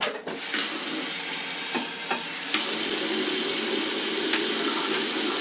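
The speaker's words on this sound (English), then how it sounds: "But I'm going to rinse this out because it's got sediment at the bottom." Water runs steadily from a sink tap to rinse sediment out of a kombucha brewing container, a continuous hiss and splash with a few brief clinks, close by and with no talking.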